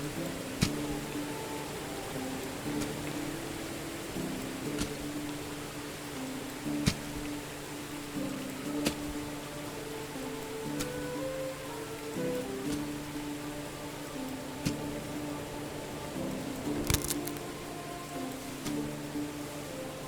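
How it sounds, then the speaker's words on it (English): Steady rain falls in the medieval survival game Medieval Dynasty, a continuous soft hiss with occasional sharper drop ticks, heard alone beneath a low ambient game drone. "It is a very rainy springtime."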